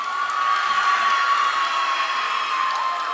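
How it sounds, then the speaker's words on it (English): A crowd cheers at a high school volleyball game between Mansfield and Attleboro, a continuous loud roar of voices and shouts that fills the gym with a steady intensity. "There's the crowd cheering right on crew"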